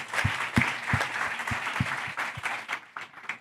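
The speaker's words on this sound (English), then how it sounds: "give everybody, the panelists here, a good round of applause" Applause for the panelists at the Nature Positive Pavilion at COP16, a moderate room of clapping with a few distinct, punchy claps up front, fading gradually toward the end.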